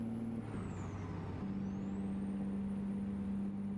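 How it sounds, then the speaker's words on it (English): Engine of an American truck running at a steady idle, a low continuous hum and drone that holds steady throughout, heard alone with no talking. "I do hear your truck."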